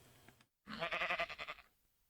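A single sheep bleats in the Minecraft video game, one clear wavering call after a brief silence, close and fairly loud.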